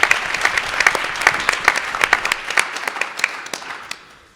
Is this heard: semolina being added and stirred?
no